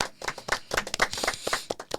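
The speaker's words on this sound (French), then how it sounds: "Moi aussi j'applaudis." A small studio audience claps with sharp, irregular hand claps for about two seconds, close and moderately quiet, with no talking.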